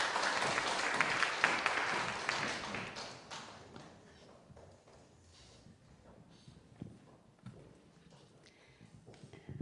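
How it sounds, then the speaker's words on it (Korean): A church congregation gives a warm round of applause to welcome a preacher, loud and dense at first, then thinning into scattered claps and faint taps as it fades out. "큰 박수로 환영해 주시기 바랍니다"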